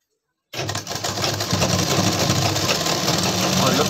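Sewing machine stitching belt loops onto trousers, starting abruptly after a short silence and then running as a steady, close, rapid mechanical whir with a rhythmic needle chatter that continues throughout.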